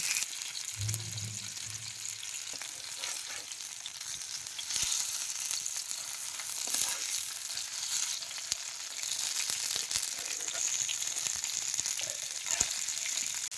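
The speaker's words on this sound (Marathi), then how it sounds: "असं दाबून खालवर करूनच हे मासं चांगलं भाजून घ्यायचं" Stuffed masala pomfret frying in a pan, pressed down as it cooks, gives a steady close sizzle throughout with a few brief soft knocks from the pressing, no talking.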